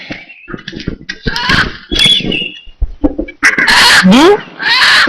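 Live chicken at a market squawking and clucking in loud bursts, close by, mixed in with people talking and haggling over the bird.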